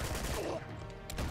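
Rapid minigun fire from Uncharted 2, a dense continuous rattle of shots that fills the whole moment, loud and close with a brief louder burst near the end.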